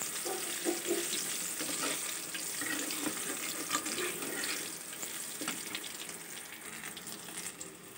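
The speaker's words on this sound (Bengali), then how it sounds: "ভালো করে ভাজা হোক।" Steady sizzling of eggplant with a little turmeric frying in a pan, with a constant crackling hiss and occasional stirring clinks; no voices.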